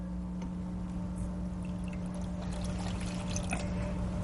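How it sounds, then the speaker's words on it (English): Water poured steadily into a mixture of sugar and cornstarch for a cherry sauce, a continuous soft splashing trickle with a few brighter spatters, close and alone. "I'm going to add some water"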